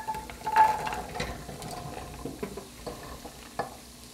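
Chopped carrots, potatoes and green beans tumble into a pot, giving a brief clattering splash followed by soft stirring and light sizzling, close and alone.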